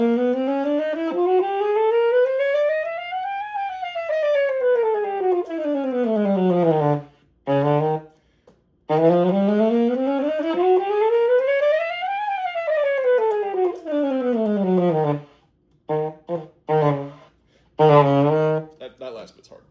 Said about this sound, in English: that's what the chromatic scale sounds like